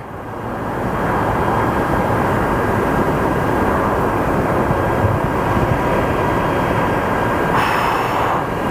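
A Boeing 737 airliner headed to Seattle at Phoenix Sky Harbor Airport gives a loud, sustained jet engine roar that swells in within the first second and holds steady, with a brighter surge near the end.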